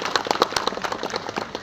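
Crowd claps at a Shiv Sena election campaign launch in a ward, a short burst of uneven, fairly close hand claps lasting under two seconds.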